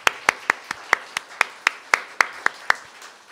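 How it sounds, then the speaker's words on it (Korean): Clapping during a church service: about a dozen crisp, evenly spaced claps in a steady rhythm, close and fairly loud, with little crowd noise around them. "우리 다시 한번 큰 박수 한번"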